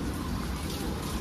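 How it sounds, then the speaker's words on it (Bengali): Steady rain pouring down at a beach resort pool area, a dense, even hiss filling the whole moment with no pauses and no voices. "বৃষ্টি শুরু হয়ে গেছে"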